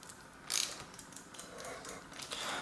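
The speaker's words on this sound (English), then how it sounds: "Then use my wrench to tighten it in." A ratchet wrench tightening a square taper bicycle bottom bracket clicks in a quick, steady, fairly faint run of pawl ticks close by, with one brief louder burst partway through.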